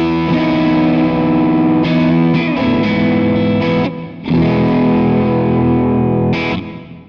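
Distorted electric guitar through a Kemper amp profile, switching from dark single-coil pickups to brighter humbuckers. Sustained chords ring out loud and close, with a short break near the middle before playing resumes.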